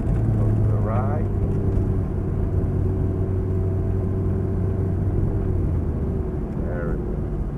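A sports car at a race driving experience in Mexico, its engine droning steadily and close under constant cabin rumble, while an instructor talks over it throughout.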